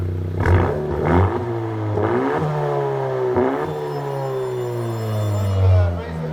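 A 2018 Honda Civic Si turbo with a muffler-delete dual exhaust revs repeatedly, with loud, rasping engine surges rising and falling several times close by over a steady idle, and voices faintly underneath.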